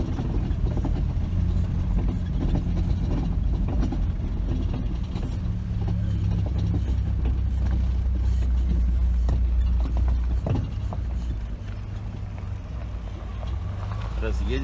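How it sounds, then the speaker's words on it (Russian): A small truck's engine rumbles steadily on a narrow forest road in a nature reserve as two vehicles squeeze past each other, loud and low throughout with occasional knocks, while a person talks over it. "Сейчас будем разъезжаться с грузовичком."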